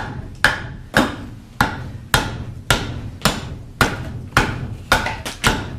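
Sharp carving tools strike into a walnut bowl being hewn from a log, about a dozen crisp woody chops landing in a steady rhythm, close and loud, each blow ringing briefly with a tone that shifts as the wall thins.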